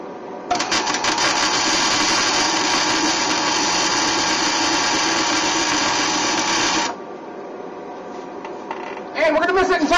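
Wire feed welder burning on the frame rivet of a 1946 Ford truck: a loud, steady crackling buzz runs for about six seconds, then cuts off abruptly, followed by quieter shop noise and a brief voice at the end.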